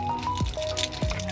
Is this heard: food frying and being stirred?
no